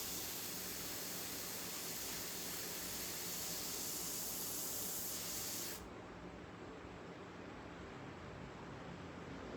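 Continuous airbrush spray, a close steady hiss of compressed air and paint that holds evenly, then drops slightly and dulls for the final few seconds.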